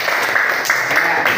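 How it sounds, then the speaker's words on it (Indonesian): Applause from students in an Indonesian classroom during a lesson on the Farewell Hajj, brief and loud, with a few clearer claps rising out of a dense wash of hand clapping. "Tepuk tangan semuanya."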